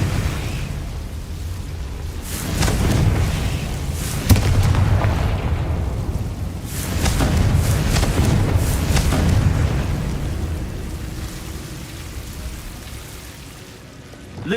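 Bombarda and Confringo spell explosions in the video game Hogwarts Legacy: several heavy booming blasts with long rumbling, crackling tails that swell and fade over about fifteen seconds.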